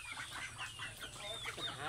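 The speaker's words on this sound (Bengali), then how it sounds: "আর এই যে হাঁসগুলো" Domestic ducks around a newly bought village house give a close run of overlapping quacks and clucking calls, lively and continuous for a couple of seconds with no talking.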